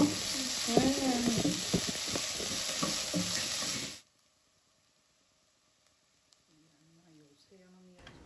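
Finely chopped carrots sautéing in oil in a pan, a steady close sizzle with stirring scrapes for about four seconds, cut off abruptly into near silence before a voice speaks briefly at the end.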